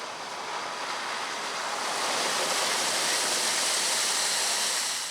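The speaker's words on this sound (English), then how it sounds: "I'm in Stillwater Creek and the tide is rising rapidly" Flood water surges through Stillwater Creek as a steady, rushing wash of water that swells slightly louder midway, constant and close with some wind noise and no voices.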